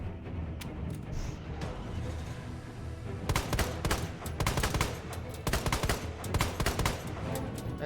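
Rapid bursts of gunfire from a magazine dump in Resident Evil 2, starting sparse and then coming in dense, loud volleys of repeated shots over steady game background.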